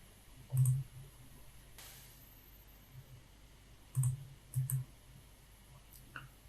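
A computer mouse clicks while editing layers in Adobe Photoshop 2020: a single click, then a pause, then a quick cluster of three clicks, crisp and close in a quiet room.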